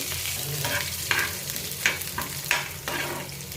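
Tempering ingredients stirred in hot oil with a spoon for Andhra-style curd rice, a steady frying sizzle broken by several distinct scraping strokes of the spoon against the pan.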